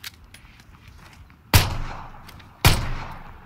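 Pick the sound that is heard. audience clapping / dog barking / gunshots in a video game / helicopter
gunshots in a video game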